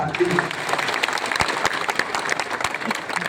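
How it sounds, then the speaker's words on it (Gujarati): Audience applause at a motivational speech, steady dense clapping from a crowd filling the whole short stretch, fairly close and loud with no voice on top. "દિલથી ગમે તો તાળી પાડજો"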